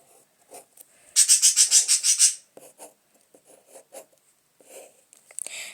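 A pen or marker moving quickly across a board or paper as numbers are written out by hand during a maths lesson on common multiples, a dense burst of rubbing strokes followed by lighter, scattered scratches.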